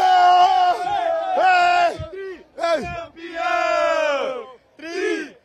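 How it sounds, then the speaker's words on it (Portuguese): Football fans shouting a chant celebrating a 25–0 Libertadores final win, several loud drawn-out yelled bursts with short gaps, voices close and raw. "cadê o grito da torcida de campeão?"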